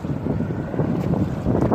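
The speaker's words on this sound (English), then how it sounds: "it's windy" Strong outdoor wind rumbles continuously against the microphone, a dense low roar that holds steady and swells slightly toward the end, with no voices.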